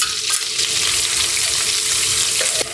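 Pounded aromatics and grated coriander root, garlic and pepper paste stir-fry loudly in hot oil, a close, continuous hissing sizzle with occasional spatula scrapes for chicken in tomato sauce.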